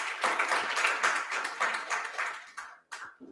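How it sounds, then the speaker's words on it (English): Audience applause at a morning AI lecture event at a university, a dense burst of clapping that swells, tapers, and ends with a few scattered claps. "Please welcome her with your applause"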